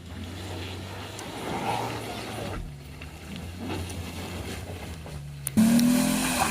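An off-road car's engine running during an extreme off-road test: a low, steady engine drone with a shifting hum, which ends in a sudden louder surge.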